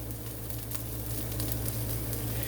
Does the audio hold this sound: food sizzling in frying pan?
yes